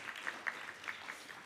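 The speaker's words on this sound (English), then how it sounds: "You can applaud him." An audience at a synagogue talk claps in soft, scattered applause, a faint, steady patter of hands heard at a distance for a brief moment.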